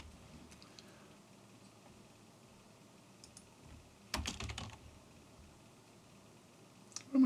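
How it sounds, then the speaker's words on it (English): Typing on a computer keyboard: scattered light clicks, a dense fast burst of keystrokes midway and one more sharp tap at the end, close and fairly quiet. "God, I'm not typing very well, am I?"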